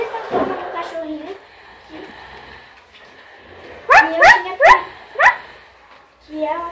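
A puppy barks in a quick run of four sharp yips, then whimpers briefly, loud and close, with a voice talking earlier in the scene.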